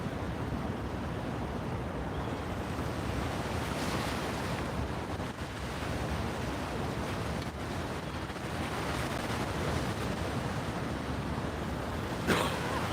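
Turbulent river water rushes steadily beneath a railway bridge on the Tennessee River Walk, a constant loud broadband roar with wind noise, uninterrupted for the whole stretch and with no voices.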